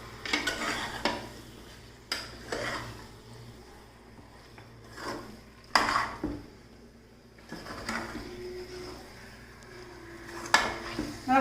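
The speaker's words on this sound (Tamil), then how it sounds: "இப்போ நல்லா இதை ஒரு வாட்டி கிளறி விட்டுக்கிடுங்க." Chicken curry being stirred in a pot over high flame, with a spoon scraping and knocking against the metal in irregular bursts and soft sizzling between the strokes, close by.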